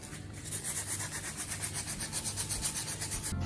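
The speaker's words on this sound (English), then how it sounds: "now we're going to continue sanding the rest of the repair area to remove the coat of lacquer" Close, rhythmic back-and-forth sanding strokes rub epoxy putty and lacquer on a carbon fishing rod repair, a steady scratchy pulse with no talk.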